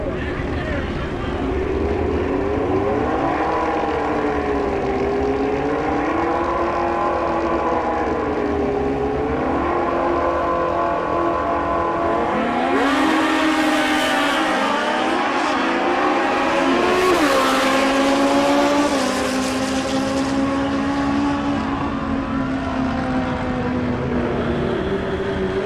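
Street ET class drag racing cars run down the strip, engines droning and rising in pitch with shifts and a louder pass in the middle, while an announcer talks over the continuous roar.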